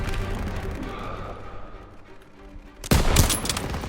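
Sustained bursts of rapid gunfire crackle over a busy background in the video game Call of Duty: WWII, then a sharper, louder volley erupts near the end.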